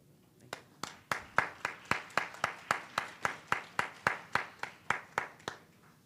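Steady rhythmic clapping at a town hall meeting, about three claps per second, sharp and fairly close, with no talking over it.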